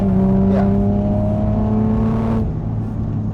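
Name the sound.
Toyota Supra MKV engine revving under throttle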